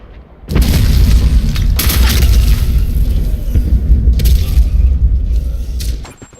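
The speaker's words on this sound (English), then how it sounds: "Grenade, move!" Grenade blast in the online shooter Black Squad: a sudden loud nearby boom followed by several seconds of heavy rumbling with sharp debris crackles, ending abruptly, no voices.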